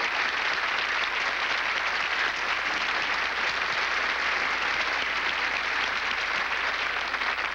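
A large audience at a gala honoring a lifetime of work for children breaks into sustained applause, an even, continuous wash of clapping that holds at steady volume throughout without any voices.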